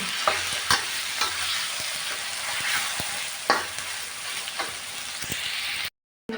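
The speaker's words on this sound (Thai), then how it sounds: "เราจะผัดพริกเผาใส่กับพริกที่สุกก่อนนะคะ" A steady sizzle of roasted chilies frying in a pan, punctuated by regular clinks and scrapes of a spatula stirring, then a sudden brief silence at the end.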